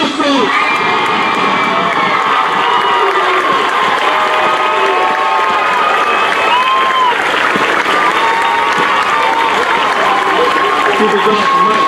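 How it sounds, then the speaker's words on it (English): High school graduation crowd at New Milford High School in 2017 clapping, cheering and whooping for a graduate, loud and continuous with shrill young voices shouting over the applause and a voice speaking through it. "I want the big round of applause first"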